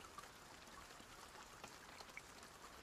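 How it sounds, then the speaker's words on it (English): Faint, soft rain patters steadily in the dispensary management video game Weed Shop 3, a quiet hiss of drops with a few light taps and no voices. "Oh no, it's still raining."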